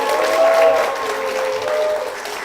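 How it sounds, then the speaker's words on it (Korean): A church congregation applauds to welcome a youth pastor, with full, even clapping from a crowd and a faint sustained tone underneath. "전도사님이 나와 계십니다. 박수로 맞아주십시오."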